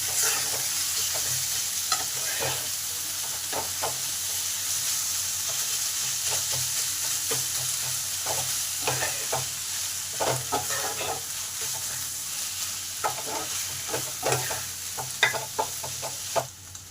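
Steady frying sizzle of fish in a pan with repeated scraping and stirring clatters, close and continuous, no voices.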